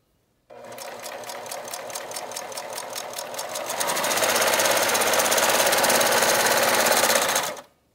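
A serger's motor starts up and runs with a fast, loud mechanical chatter, speeding up partway through, then stops abruptly.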